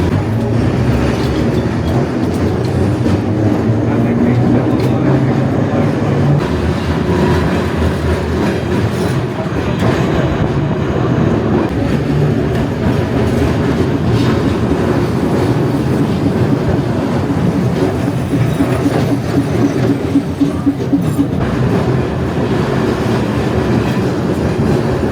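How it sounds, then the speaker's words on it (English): New Orleans streetcar riding on its rails, a continuous rough rumble with rattling and clicking wheels heard from aboard, steady and loud the whole way with faint voices underneath. "Say the New Orleans streetcar is a little rougher of a ride than the San Francisco version."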